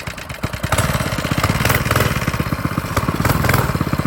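A Coleman CC100X mini bike's small engine runs close and loud after being pull-started, with a rapid, pulsing putter and rises in speed as it is revved, no voices over it.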